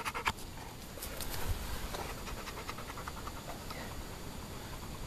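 A Golden Retriever pants steadily close by, a quick rhythmic breathing that runs through the whole stretch with a few small scratchy knocks near the start.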